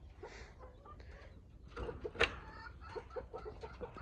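Hens in a backyard coop cluck softly and steadily nearby, with one sharper squawk near the middle and a faint low rumble underneath.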